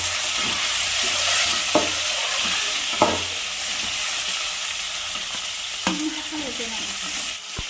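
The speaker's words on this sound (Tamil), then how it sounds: "ஆனியன் நல்லா வதங்கின உடனே தக்காளி ஆட் பண்ணிக்கலாம்." Onions and tomatoes sautéing in a pan: a steady close sizzle and crackle, with a few sharp clicks of a utensil stirring, continuous and fairly loud, no speech.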